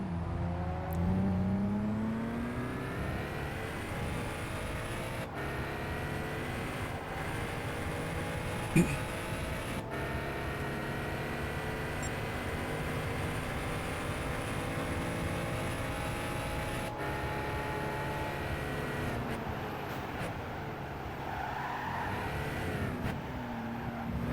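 Supercar engines race in Gran Turismo 5, chasing a Lamborghini Miura from an interior cockpit view: a steady, loud engine drone with rising and falling pitch through gear changes runs throughout, with a voice talking over it.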